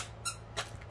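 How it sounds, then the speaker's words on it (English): A pet's squeaky toy gives three short, high squeaks at a steady spacing, close by and fairly quiet, with no voices over them, during a diamond art unboxing. "Mimi, with her squeaky"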